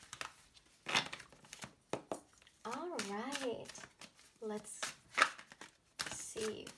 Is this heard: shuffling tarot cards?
yes